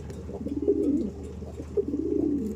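Young racing pigeons coo in a loft, soft throaty rolling coos repeating in two close bursts over a low steady background hum.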